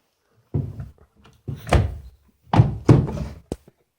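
Wooden dresser drawers in an abandoned farmland house thunk open and shut several times, each with a muffled knock as the drawer slides and stops, close by in a quiet room.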